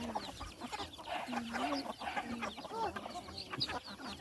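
Native chickens in the mountains cluck and chatter busily close by at feeding time, overlapping calls with a few rising squawks, fairly quiet overall.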